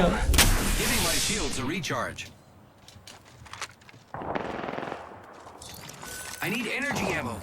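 Apex Legends gunfire from all directions: bursts of shots and blasts crowd the opening, thin out into scattered cracks, then surge again, while excited players talk over the fighting.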